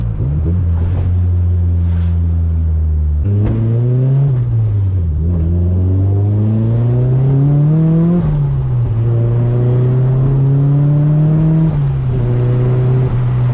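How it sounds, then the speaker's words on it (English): Nissan S15 Silvia with a two-way differential, lowered on three-piece wheels, driving with a loud, continuous drivetrain and engine drone that climbs in pitch in repeated surges as it pulls through the gears; no talking. "I don't know if you guys can hear that two-way diff. It's loud sometimes."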